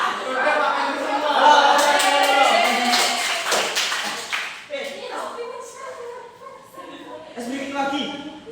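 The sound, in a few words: hand clapping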